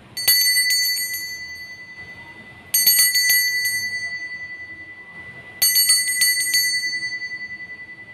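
A bright metallic bell rings three times in separate bursts, each strike ringing out sharply and then slowly fading, heard alone against a quiet background.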